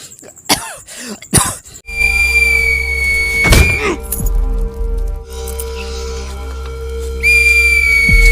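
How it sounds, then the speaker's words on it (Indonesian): A whistle sounds in sustained shrill tones over a droning hum, after a few short coughs or throat noises at the start. "Talau coba mendekat lalu meniup peluit"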